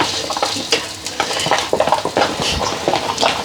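Flour-coated fish fry in a pan, a busy sizzle broken by the clatter and scrape of stirring against the pan, steady and close with no talking.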